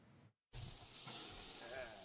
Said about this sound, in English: It's a sound we love to hear, that sizzle on the grill.